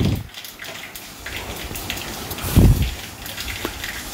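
Crackling and popping in hot oil, a steady sizzle with a few louder bursts, close by and with no talking.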